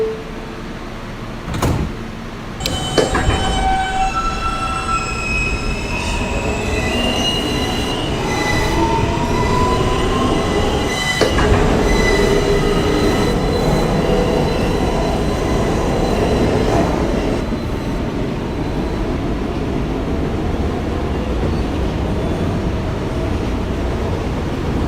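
A Manhattan-bound New York subway F local train running on its tracks, heard from inside the car as a steady loud rumble, with a few clunks early on and drawn-out squeals and whines from the wheels as it moves along, no voices.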